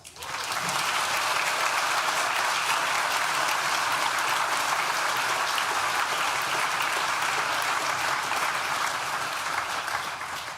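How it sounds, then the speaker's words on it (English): A graduation ceremony audience at Nottingham Business School gives a loud, sustained round of applause for staff and tutors, a thick, even wash of clapping from a large crowd that never lets up. "Please join me in thanking them with a well-deserved round of applause."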